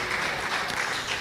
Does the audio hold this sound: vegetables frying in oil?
no